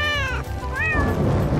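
A cartoon cat trapped near a fire gives a couple of drawn-out, wavering meows over a rhythmic background music track.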